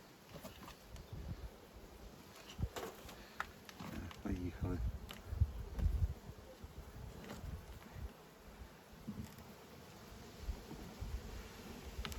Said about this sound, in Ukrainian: щось бджола дуже турбується